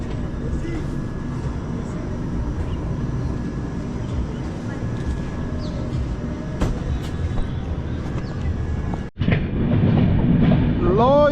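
Steady rumble and rattle of a moving passenger train heard from inside, leaving Karnal, continuous and fairly loud, with a brief dropout near the end.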